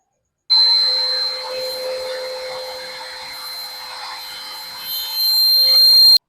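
A high-speed rotary engraving tool whines steadily as it cuts a gap into a handmade wooden sea-fishing lure, a close continuous buzzing tone that dips slightly and rises again near the end.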